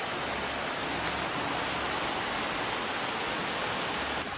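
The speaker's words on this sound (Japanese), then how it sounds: "本日のメイン、カムイワッカイの滝到着。" Kamuiwakka hot spring waterfall in Hokkaido roars as a steady, dense rush of falling water, close and loud, with no break for the whole stretch.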